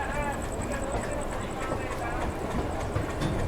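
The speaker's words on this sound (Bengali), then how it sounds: "ট্রেন ছেড়ে দিয়েছে একদম মোটামুটি নির্ধারিত সময়" The Kanchankanya Express, the night train from Sealdah bound for Alipurduar Junction, rolls along with a steady, continuous rumble and rattle of its carriages, close and even throughout.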